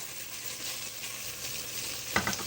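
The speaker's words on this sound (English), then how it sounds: "So after I'm gonna saute this" Food sautés in a small amount of oil in a pan, giving a steady close-up sizzle and crackle throughout, with a few brief clinks near the end.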